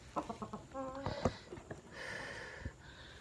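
A chicken that cannot stand, sick with a leg or joint ailment, makes a few close, soft clucks and short chattering calls in a quiet indoor setting.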